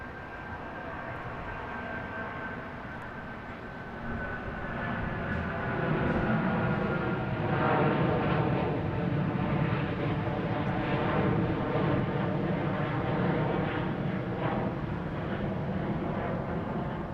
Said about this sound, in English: we have this 777, flight 108, heading to London Heathrow